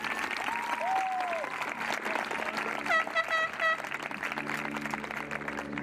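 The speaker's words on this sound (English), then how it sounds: "a wonderful round of applause" An audience at a high school graduation claps for the principal, a broad, steady wash of applause running throughout, with a voice speaking over it partway through.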